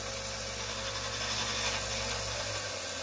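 Rikon VS-161 belt sander running at high speed with a slight wobble: a steady, continuous whirring hum with broad airy hiss, even in level throughout, no voices.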